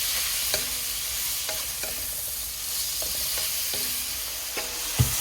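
Curry with pork neck and bamboo shoots sizzles steadily in a pan while a utensil scrapes and taps in a slow, irregular stirring rhythm, close up and without talk.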